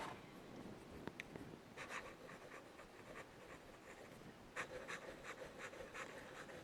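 Nib of a Muji polycarbonate fountain pen, a new 2025 version with a stiff, slightly scratchy extra-fine point, scratching across paper in soft, faint strokes and short bursts, close up with no voices.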